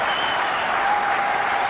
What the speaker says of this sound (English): We all clap in anticipation.